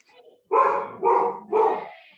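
A dog barks three times in quick succession, loud and close, during a police commission business meeting.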